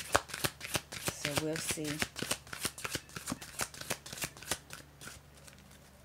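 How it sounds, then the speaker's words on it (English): A new deck of cards is shuffled with repeated crisp riffles and snapping bursts in a steady rhythm, close up, while a person speaks briefly over it. "This is my first time shuffling with them."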